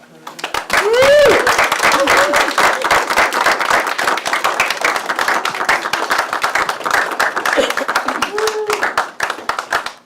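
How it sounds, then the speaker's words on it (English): Sustained applause and hand clapping from a large audience at a doctoral hooding ceremony, loud and continuous for about ten seconds, with a few voices rising briefly over the clapping. "Another round of applause."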